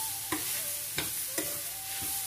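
Masoor dal with cumin and turmeric stirred and sautéed in a pan over low flame, a soft steady sizzle broken by a few distinct scraping stirs of the spatula, close and alone.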